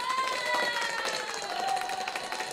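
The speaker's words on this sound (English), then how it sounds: "they're all clapping in the background there, giving us the quick applause" An artificial crowd applause sound effect plays quietly, a short wash of clapping and cheering. It sits under a steady tone and some background voices.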